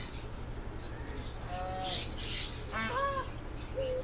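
Female peacock calling outdoors at a bird enclosure: a few short, wavering honking calls spread over a few seconds, fairly faint against steady background hum and rustle.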